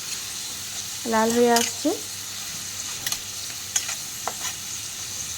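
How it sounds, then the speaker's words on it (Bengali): Sliced onions fry in hot oil to make crisp beresta for morog polao, giving a steady close sizzle and hiss while a voice speaks briefly. "তো প্রথমে আমি পেঁয়াজের বেরেস্তাটাকে বানিয়ে নেব।"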